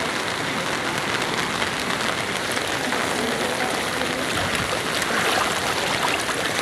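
Heavy typhoon rain pours down while strong floodwater rushes along a flooded street corner in Sampaloc, making a dense, constant roar of downpour and churning current that is loud and unbroken throughout.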